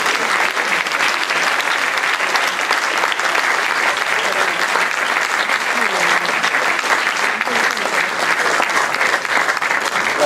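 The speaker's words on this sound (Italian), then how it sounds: "L'applauso alla memoria di Carletto." Sustained audience applause at a sports association anniversary event in Lecco, held in memory of a late member; steady, dense clapping fills the whole stretch with a busy room tone beneath.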